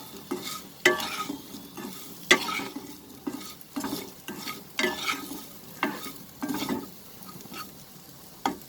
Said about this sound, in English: black pepper powder, oregano, chili flakes, and then we are mixing it